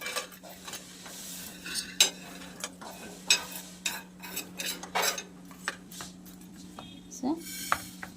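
Clinking, scraping strokes of a spatula stirring ingredients dry-roasting on a tawa, irregular and close, with a steady low hum underneath and a voice talking intermittently.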